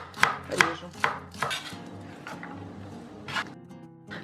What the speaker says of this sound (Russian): Режу сельдерей.